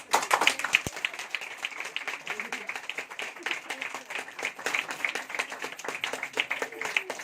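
Church congregation clapping along in a steady rhythm, many hands keeping a fast even beat throughout, with voices mixed in beneath.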